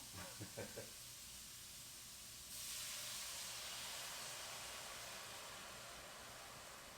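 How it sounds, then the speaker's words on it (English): Steady frying sizzle and hiss of shrimp and Sauvignon Blanc in a hot pan, growing louder partway through, after a few faint clinks at the start. "now our shrimp are sizzling away"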